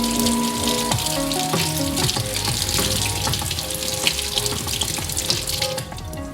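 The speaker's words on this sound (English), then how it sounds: "let's pour some water on here" Water pours over an Anker Soundcore 2 waterproof Bluetooth speaker while it plays a song, a loud continuous splashing and trickling with the music's tones still audible beneath.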